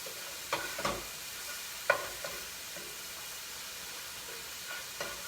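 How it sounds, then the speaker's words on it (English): Curry sweet potato stew caramelizes on a stove over a quiet, steady low sizzle, with a few soft spoon scrapes and taps as it is stirred. "Make sure you continue to stir it"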